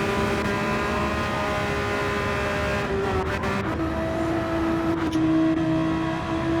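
Porsche GT3 race cars roar in a racing game at Bathurst, a steady high engine drone with shifting pitch as the cars close on each other, one car edging up on a full carbon-fibre Porsche.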